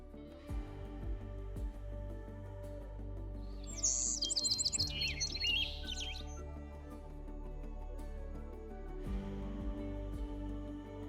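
Short high chirping trills from a small creature in the video game Love and Deepspace, a quick burst of tweets over a steady musical background.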